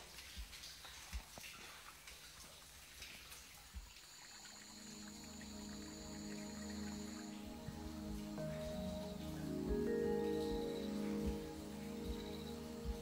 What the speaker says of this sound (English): you see the drops of spring water that sort of drizzle down